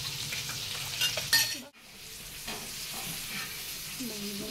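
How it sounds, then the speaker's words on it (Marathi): Fish sizzles in hot oil in a pan for a Konkani-style fry, a steady crackling hiss broken by a brief drop as the pieces are turned, then continuing with light scraping. "दोन मिनिटानंतर मग मच्छी पलटी केली"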